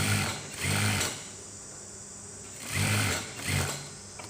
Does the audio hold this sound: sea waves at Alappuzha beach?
no